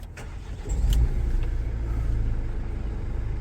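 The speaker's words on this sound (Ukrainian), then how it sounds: "Так, зараз ми а цей автомобіль заведемо" A used commercial vehicle's engine at a car market starts with a brief crank and then settles into a low, steady idle rumble.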